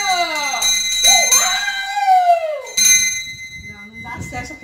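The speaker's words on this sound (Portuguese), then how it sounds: "toca o sino!" A synthetic notification bell rings twice with bright, ringing chimes that sweep and decay, while a person talks over and after it.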